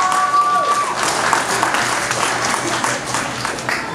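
Applause and cheering from an audience at a Star Wars costume panel with 501st and Rebel Legion members at a Festival of Trees event, steady and fairly loud, filling the whole moment, with a brief tone at the start.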